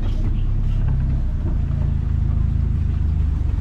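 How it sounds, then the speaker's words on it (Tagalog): An owner-type jeep engine rumbles steadily and loudly, a continuous low drone as it drives along. "Bali yung tunog ng makina, hindi pa ako masyadong satisfied."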